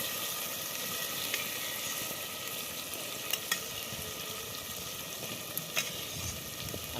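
Potatoes go into spiced oil in a pan for an egg and red lentil curry, giving a steady, close sizzle and crackle with occasional sharp pops and stirring scrapes. No voices are heard.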